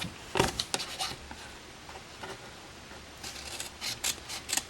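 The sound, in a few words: scissors cutting paper along score lines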